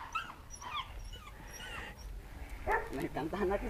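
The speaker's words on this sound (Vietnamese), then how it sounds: "chó Malinois Dudong và những cái chú chó 2 tháng tuổi" Two-month-old Malinois puppies playing together, giving high whimpers and yips in quick bursts, close by, with a person talking over them.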